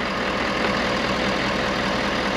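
The engine of a Ford F550 motor home idles with a steady, even drone, while an air compressor may be running nearby. The rumble is close and constant, with no voices heard.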